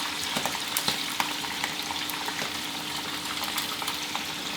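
Shrimp deep-fry in hot oil with a dense, steady crackling sizzle, close and continuous with small bubbling pops throughout.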